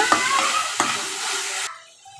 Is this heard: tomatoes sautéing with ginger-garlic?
yes